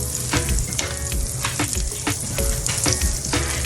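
Oil sizzles steadily in a hot pan with chicken drippings, a dense continuous crackle with scattered pops, close and fairly loud, no voices.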